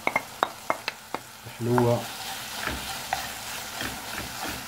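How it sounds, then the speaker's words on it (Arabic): Kofta sauce with olives and peppers stirred in a pan for stuffed briouats, a series of sharp spoon scrapes and knocks with a low sizzle underneath, close, and a short voiced word in the middle. "نخلطو الجميع"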